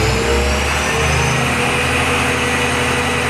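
A HAAS TL-15 CNC lathe with 23.5-inch swing holds a steady high-speed spindle whine with a dense mechanical drone, loud and close throughout.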